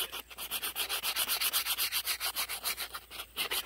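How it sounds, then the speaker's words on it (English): Hand sanding a wooden slingshot fork cut from a tree, using 220-grit sandpaper: steady, rhythmic back-and-forth rasping strokes, close and even, about seven strokes per second with no talk. "But I'm just going to keep sanding here."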